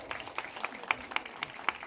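An audience claps at a stage program, a light patter of applause with a few sharper, distinct hand claps standing out nearby.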